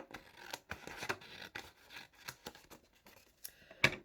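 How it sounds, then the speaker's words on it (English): Quiet scissors snip and rustle through a paper circle in a series of irregular cuts, close by, with a sharper crisp snip near the end. "we're going to take our scissors and then cut the circle into 2 semicircles"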